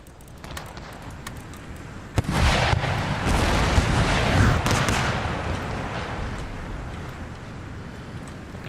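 Cannon fire in the strategy game Empire: Total War, a sharp boom followed by a sustained rolling roar of battle, with scattered distant shots before it.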